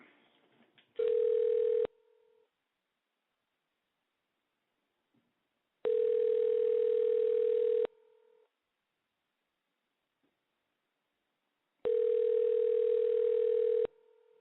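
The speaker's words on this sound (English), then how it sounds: "And it's dialing." A telephone tone sounds while a call is dialing. Three steady beeps, each about one to two seconds long, are separated by long silent gaps, alone and fairly loud.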